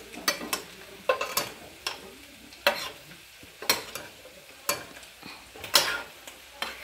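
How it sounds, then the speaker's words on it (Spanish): Serrano chiles and onions frying in a pan, with sharp, irregular stirring scrapes and brief sizzles repeating roughly every second over a quiet background. "agregamos dos chiles jalapeños, no, serranos al gusto. Esperamos a que se suavicen."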